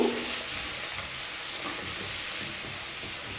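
Puri dough sizzles in hot oil while being pressed down with a ladle, a loud, continuous frying hiss with soft bubbling crackle close up, no voices.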